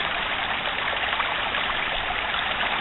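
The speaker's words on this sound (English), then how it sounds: "Parfrey's Glen Creek is what I imagine it's called." The creek at Parfrey's Glen flows with a steady, unbroken rush of water, even and fairly loud throughout, with no voices or other sounds over it.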